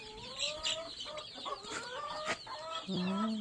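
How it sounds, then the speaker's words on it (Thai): Several free-range chickens cluck and chatter close by in a coop in a busy, overlapping chorus, with a sustained low call near the end. "ที่พักไก่"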